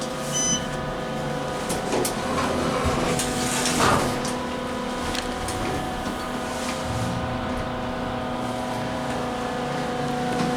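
An Otis Series 5 hydraulic elevator at the Sunbridge Hotel and Conference Centre runs with a steady mechanical hum and whine, holding level throughout, with a few faint clicks and shifts along the way.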